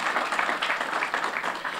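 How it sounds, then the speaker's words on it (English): A short stretch of steady applause at a landfill renewable natural gas ribbon-cutting in Dubuque, many hands clapping at once, fairly distant and even, without a clear break. "He deserves an absolute applause"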